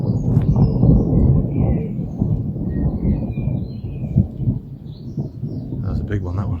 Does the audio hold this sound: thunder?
yes